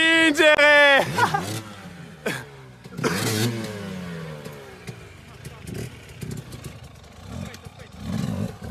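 A motorcycle engine revs sharply a few times near the start, then settles into a rough running rumble beneath scattered voices.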